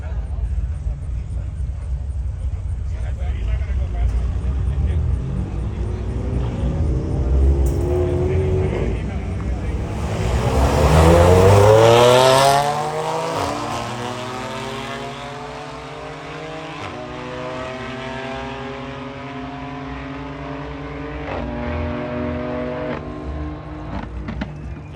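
Modded BMW M3 and M4 in a roll race, engines revving hard with a rising, sweeping roar that peaks mid-clip and then fades into the distance, while people talk over it.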